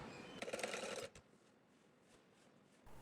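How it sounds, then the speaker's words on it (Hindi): A home sewing machine runs a short burst of rapid stitching along a baby kaftan dress in fabric near the neckline, a dense mechanical whir lasting about a second, then stopping into quiet room tone. "अब मैं यहाँ पर सिलाई चलाऊँगी।"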